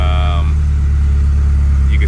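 A car running on an AEM Infinity 508 ECU setup holds a loud, steady low drone, with a brief whine early on and a faint voice over the engine noise.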